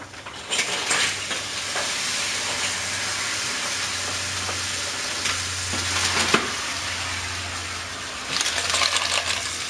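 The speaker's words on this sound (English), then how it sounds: "Got my clams. I'm going to add that to the mix right now." Clams cook in a hot pan with steady loud sizzling and frying, broken by scraping stirs and shell clinks, close up with no talk.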